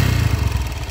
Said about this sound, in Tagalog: tapos napakaingay na ng makina nya